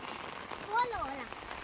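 Rain patters steadily outside a home kitchen, a soft even wash under a person's nearby talking.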